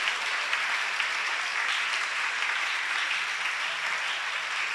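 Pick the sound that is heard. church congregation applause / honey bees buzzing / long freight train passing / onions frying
church congregation applause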